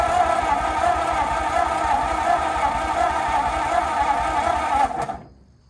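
A 1950 Ford flathead V8 in an old flatbed truck cranks steadily on the starter, a loud continuous whirring churn that holds for about five seconds and then winds down and stops, with no voices.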